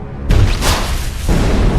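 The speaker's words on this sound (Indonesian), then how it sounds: "memintanya kembali meledakkan granat" A grenade explosion from the action film Taken 2: a sudden loud boom hits after a brief quiet start, with a broad roaring burst and rumbling tail, then a second heavy surge of low rumble near the end.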